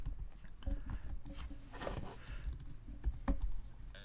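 Keys tap on a computer keyboard as a website link is entered, in close, quiet, irregular clicks with a few louder strikes and no talk.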